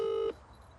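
A single steady phone dialing tone sounds clearly for about a third of a second, then cuts off, leaving faint room hiss.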